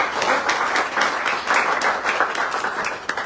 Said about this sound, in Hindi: ये टीचर्स के लिए भी हमने ताली बजानी चाहिए।